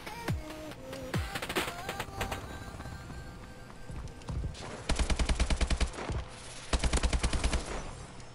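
Rapid bursts of AK-12 rifle fire in a first-person shooter game, with sustained automatic strings and scattered single shots, loud and close, with a few game sound effects between volleys.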